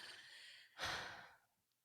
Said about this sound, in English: This is just going to be a whole lot of sniffling and breathing.